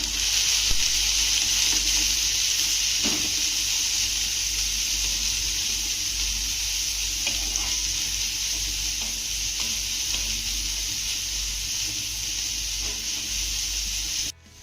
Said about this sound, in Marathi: आता ह्या घातलेल्या सगळ्या भाज्या आपल्याला हाय फ्लेमवरती एक ते दोन मिनटं चांगल्या परतून घ्यायच्या